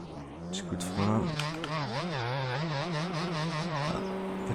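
In the motocross game MX Bikes, a dirt bike's engine note drops sharply under braking, then warbles up and down through a corner, close and prominent, before settling into a steady drone.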